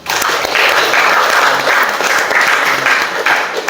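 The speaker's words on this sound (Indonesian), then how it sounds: "Kita beri aplaus dulu kepada kelompok 1." Steady applause from a classroom audience for a student discussion group after its presentation, a dense clapping texture that holds strong and even for several seconds.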